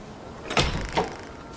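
A door in the video game The Thaumaturge is eased open just a crack, making two soft, close creaking thumps about half a second apart against a quiet background.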